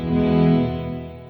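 Alexander Space Force reverb pedal on its gate release setting: a loud, sustained reverberant guitar tone with rich harmonics swells, then fades away as the gate releases.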